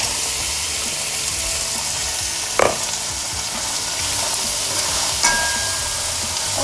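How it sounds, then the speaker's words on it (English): Chopped onions and mixed vegetables sizzle loudly and steadily in a hot pan for fried rice, with a couple of clinks from a utensil, heard up close and without talk. "My onions have cooked for about a minute, so I'm gonna add mixed vegetables."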